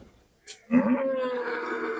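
A single deep, drawn-out moo from a dairy cow with her bull calf begins after a brief faint rustle and holds steadily to the end.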